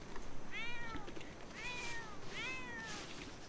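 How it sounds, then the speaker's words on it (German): Three separate meows from a cat in The Sims 4 life-simulation game, spaced about a second apart and fairly loud, with no talking and a steady soft background. "Was will die Katze denn hier die ganze Zeit?"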